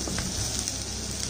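Chopped beans, carrots and cauliflower sauté in hot oil in a pan for vegetable soup, producing a steady, close, hissing sizzle that holds even throughout the short moment.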